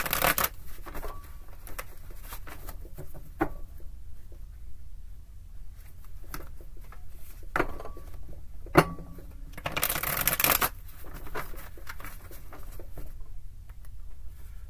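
Playing cards are shuffled several times in quick riffling bursts, close by, with small taps and handling noises between the shuffles.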